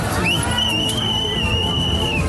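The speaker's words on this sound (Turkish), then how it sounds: "Uçan şemsiyeleri gören can kurtaran düdük çalarak denizdekilerin hemen çıkmasını istedi." A lifeguard's whistle on a beach sounds as one sustained shrill blast lasting about two seconds over a low crowd babble.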